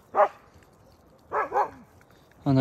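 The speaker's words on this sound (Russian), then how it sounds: "Она вот начинает облаивать и защищать." A young West Siberian Laika dog gives three sharp, close barks, single then a quick double, with a final higher yelp, spaced by quiet pauses outdoors.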